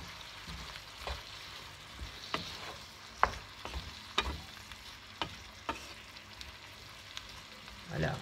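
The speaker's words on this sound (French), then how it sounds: "Je mélange." Vegetables for tchakchouka fry in a pan under a soft sizzle while a utensil stirs them, giving irregular knocks and scrapes about once a second, close but quiet, with no talking.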